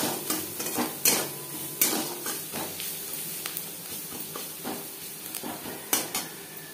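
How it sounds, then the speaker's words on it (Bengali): Onions frying in a pan for a katla kalia fish curry, with steady sizzling under repeated scraping and clinking stirs of a utensil against the pan, close and moderately loud. "3-4 মিনিট পেঁয়াজ ভেজে নেওয়ার পর দিয়ে দেবো মশলার পেস্ট"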